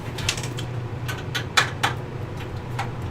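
Screw being driven in by hand with a screwdriver: faint, irregular creaking clicks and ratchety ticks over a low steady hum, with a few sharper clicks standing out.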